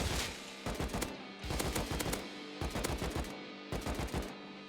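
Bursts of rapid automatic AK assault rifle fire in the video game Rust, four volleys in quick succession with brief pauses between, loud and close with sharp echoing cracks.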